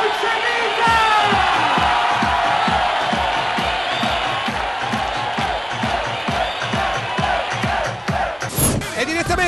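A large crowd at the Giffoni event claps in a fast, steady rhythm of loud applause mixed with cheers and whoops, close and continuous before thinning at the end, with voices shouting over it.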